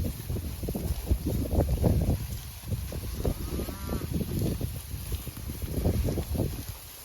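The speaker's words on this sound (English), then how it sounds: "And it's a windy night." Wind gusting across a microphone outdoors on a windy October night in cattle pasture, a continuous loud rumbling buffet with surging gusts and no voices.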